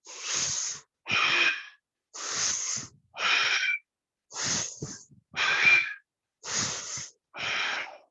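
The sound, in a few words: breathing in during a yoga stretch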